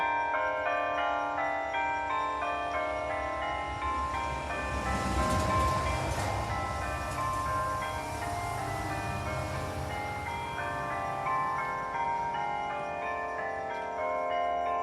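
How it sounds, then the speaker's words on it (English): Church bells ring out in a rich, overlapping peal, tones sustaining and blending as the chiming continues steadily throughout. "This is the 10 o'clock bells. I know some of you like to listen to our church bells"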